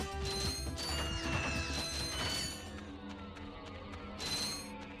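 Bolt pickups clattering in Ratchet & Clank HD Collection on the planet Hoven, a dense run of bright metallic clinks and mechanical rattles over steady game music and ambience.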